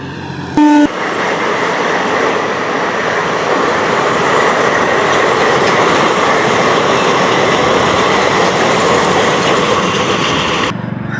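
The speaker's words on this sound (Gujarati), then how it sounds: "હવે ટ્રેન આવવાનો અવાજ સંભળાય" A train rumbles past close by on tracks beside a main highway, a loud, sustained roar with rhythmic clatter of wheels on track, preceded by a brief tone at the start.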